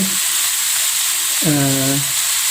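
Curry and chili powder sizzling steadily in oil in a pan while being stirred, with a continuous frying hiss and a brief voice-like tone midway.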